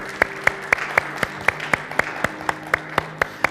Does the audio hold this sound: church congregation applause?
yes